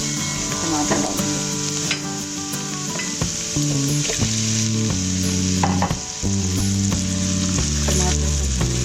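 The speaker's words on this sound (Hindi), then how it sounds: "अब हम इसमें टमाटर डालेंगे।" Tomatoes go into a pan of ginger-garlic qeema masala, giving a loud, steady sizzle of frying with stirring scrapes over a continuous background tone.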